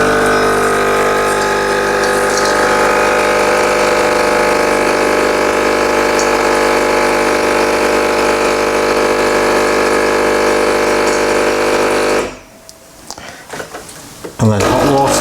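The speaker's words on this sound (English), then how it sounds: "Okay, and then steam wand." The steam wand of a Sage Barista Express espresso machine purges descale fluid with a loud, continuous hissing, pump-driven roar for about twelve seconds, then stops sharply, leaving scattered small clatters and handling noises.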